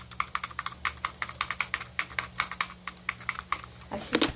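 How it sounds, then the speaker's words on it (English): Fast, repeated mouse clicks while playing a Roblox game, a rapid, uneven stream of sharp taps for about four seconds, ending with a duller thump. "I'm clicking as fast as I can."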